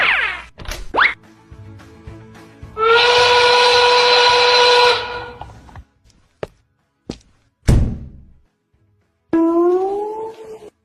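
A loud steam-style train whistle sounds at a railway station, held for about two seconds with a steady harmonic tone, set among short knocks and thuds and a second rising whistle blast at the end.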